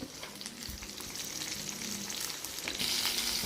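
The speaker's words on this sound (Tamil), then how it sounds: "கொஞ்சம் வெங்காயம் வதங்கட்டும் நல்லா" Small onions sautéing in a pan for brinjal chutney, a continuous soft sizzle and crackle of frying with occasional stirring scrapes, growing slightly louder toward the end.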